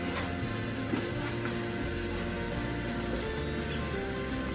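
Hot tap water runs steadily over a flat cutting board in a food lab sink, a continuous close splashing rush of moderate loudness with no voices.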